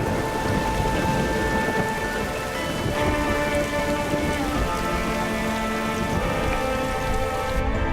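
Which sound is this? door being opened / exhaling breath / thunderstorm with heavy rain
thunderstorm with heavy rain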